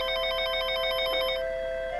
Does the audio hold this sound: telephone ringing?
yes